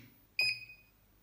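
A sudden electronic whine from an Apowers 2000 power inverter starts with a sharp click, holding a couple of piercing high tones that fade out within about half a second over quiet hum.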